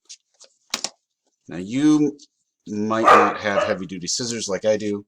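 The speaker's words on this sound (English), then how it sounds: "I'm just going to apologize for my crazy dog." A dog barks in short bursts early on, sharp and fairly close, with someone talking through most of the rest.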